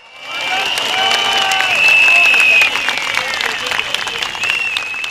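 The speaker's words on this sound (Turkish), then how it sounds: "Bu meydandaki bu alkış Türkiye'nin umududur." Dense, sustained applause from a large crowd filling an open square at a political rally, swelling quickly and holding steady for several seconds.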